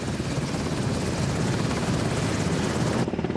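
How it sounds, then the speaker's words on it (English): Seahawk twin-engine navy helicopter roaring steadily with a dense, continuous rotor and turbine wash, loud and close, with no other sounds. "The Seahawk has twin engines, unparalleled survivability and crash-tolerance features"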